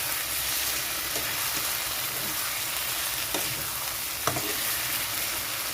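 Poppy seed paste, ground dry rather than watery, frying and being stirred in a pan for a Bengali posto dish, giving a steady close sizzle with a few scraping stir strokes, no voices.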